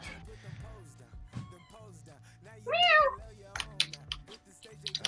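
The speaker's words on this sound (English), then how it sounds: "Whose cat just meowed?" A cat gives a single clear, rising-and-falling meow partway through, while people playing a dice-rolling tabletop game talk quietly around it.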